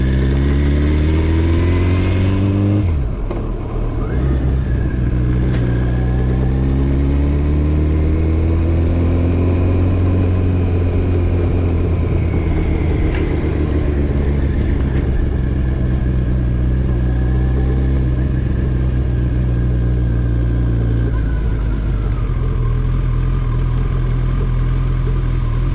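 A Kawasaki ZX-14R motorcycle engine with the throttle opened, loud and close, revving up and down in repeated rising and falling sweeps over a steady rumble, no talk.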